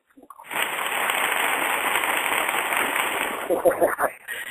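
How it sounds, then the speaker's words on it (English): A recorded burst of clapping fills a few seconds, a dense crackling patter of many hands played as a snippet on a radio interview show, trailing off at the end. "Do you like my little clapping snippet?"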